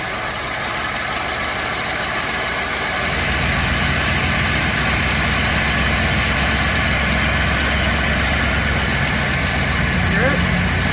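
A Lincoln car engine idles smoothly and continuously, close by, growing slightly louder after a few seconds and holding a steady low rumble.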